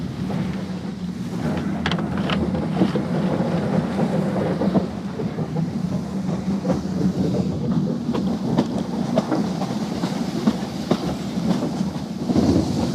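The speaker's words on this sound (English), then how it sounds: "a steam train called the Fellsman powers over the Yorkshire moors" A steam train rumbles steadily along the track over moorland, a continuous low roar with faint rhythmic clatter throughout.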